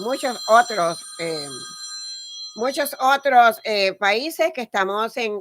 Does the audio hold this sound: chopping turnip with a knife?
no